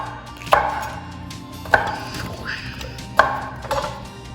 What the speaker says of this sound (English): Sweet orange peppers, chop them up.